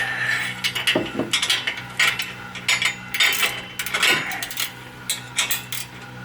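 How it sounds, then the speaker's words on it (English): A socket wrench on a swivel extension working on Porsche 996 headers, quick bursts of ratcheting clicks and metallic clinks in irregular clusters, close and fairly loud with no speech. "my socket wrench with a, I think this is about a 5 or 6 inch long extension with a swivel and my socket on the end to get to it"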